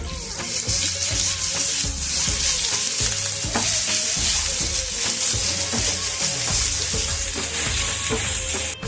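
Cumin, ginger, garlic and chili paste sizzle and fry loudly in hot oil, with a steady crackling hiss and repeated scraping of a stirring spoon against the pan.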